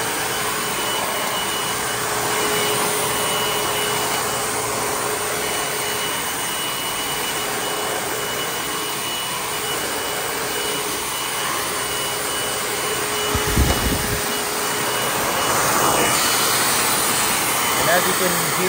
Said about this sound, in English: this vacuum actually works all right